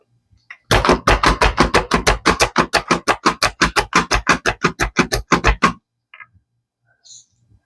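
A hand chopper chops nuts with a steady, fast run of about two dozen loud, evenly spaced thumps, then stops and leaves near silence.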